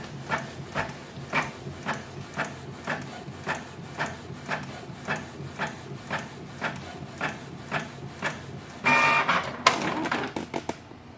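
A Canon Pixma G620 inkjet printer running off a test page, giving a steady train of regular mechanical clicks and thumps at close range, ending in a short burst of louder whirring and rustle.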